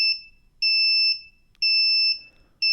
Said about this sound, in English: The class should be filled with sounds of the buzzers.